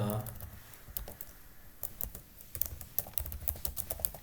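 Rapid clicking keystrokes on a computer keyboard as text is typed into a form field, coming in irregular bursts with short pauses, close and fairly quiet.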